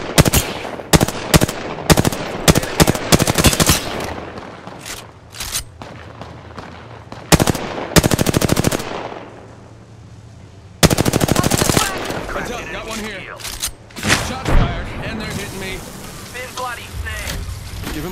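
Apex Legends gunfire, loud and close: rapid automatic bursts in rattling clusters separated by short gaps, with a drop to near quiet midway before the shooting resumes, and game voice lines underneath.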